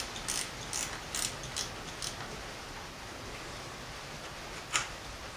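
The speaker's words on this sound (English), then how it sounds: "It's a whole lot easier getting a ratchet in here." A gear wrench ratchet clicks in short bursts while a 2008 Chevrolet Trailblazer water pump is being removed. The clicks come in several quick close runs, then a pause, and a single sharper click comes near the end.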